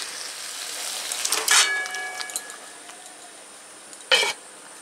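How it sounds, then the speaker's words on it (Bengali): Boiled pumpkin is added to fried spices in a pan: utensils clink and scrape against metal in two sharp bursts over a soft background hiss. "এবার আমি সিদ্ধ করে রাখা কুমড়োর ঘন্ড ছুঁ দেব।"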